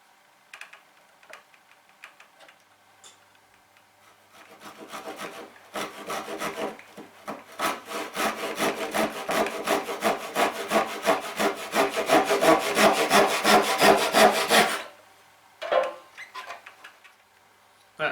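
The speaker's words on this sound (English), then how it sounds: "our saw cut needs to be on this side of the marked line" A hand saw cuts through wood along a marked line while making a simple box, with a steady run of rhythmic back-and-forth strokes that builds louder and faster mid-clip, then stops, followed by a few light knocks.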